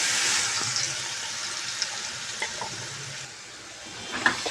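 Mustard seeds, chillies, ginger and garlic sizzle in hot oil for a tempering, a steady bright crackling hiss with a few faint pops and stirring scrapes, tapering slightly toward the end.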